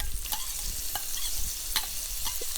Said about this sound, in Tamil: அடி பிடிக்காத மாதிரி சிம்மில் வச்சு நல்லா பச்சை வாசனை போக வதக்கிக்கோங்க